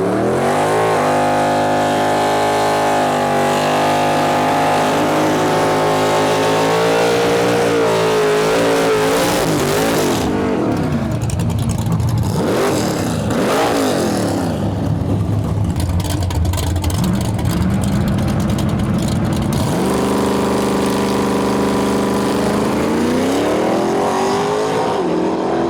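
An AMC Gremlin drag racing car at a dragway accelerates hard, its engine climbing in pitch through the gears, then roaring past up close before receding and revving again, loud throughout.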